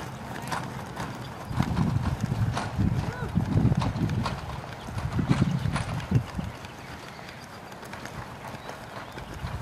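Horse hooves clip-clop in a steady three-beat canter rhythm through a western dressage lesson in an arena, moderately close, with an instructor's voice and a brief whinny-like sound occasionally over the footfalls.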